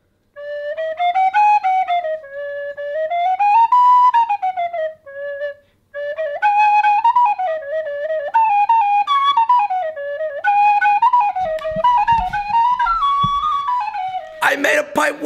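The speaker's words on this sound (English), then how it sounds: "I made a pipe whistle!" A bright, breathy whistle from a handmade forged steel pipe tin whistle plays a wandering melody of sustained tones and glides, close and steady, with a short pause and a burst of noise at the end.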